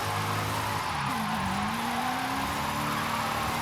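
Corvette Formula Drift car in the video game Forza Horizon 5, a loud steady engine drone with a drop and slow rising pitch as it shifts gears, continuous and close.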